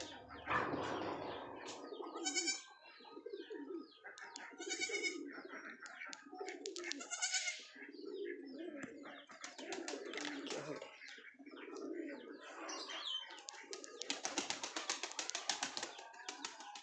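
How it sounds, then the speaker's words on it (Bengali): A flock of pet pigeons coos continuously in soft, rolling bursts while feeding, with occasional wing flaps and light pecking taps, moderately close but low in volume throughout. "এইদিকে সব পায়রাগুলো আছে আমাদের"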